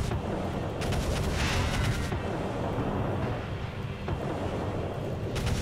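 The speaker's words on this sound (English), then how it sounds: "just continuously throw explosives at you from afar" Explosives are thrown at grenadiers in the strategy game Divinity: Dragon Commander, producing repeated muffled blasts and crackling bursts over a dense battle rumble with no break.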